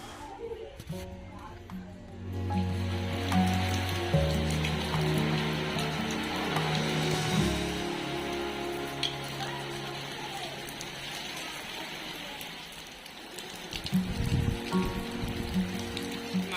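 Rain drumming steadily on a tiled roof in Ambattur, a constant pattering hiss that swells toward the end, with low humming tones and speech underneath.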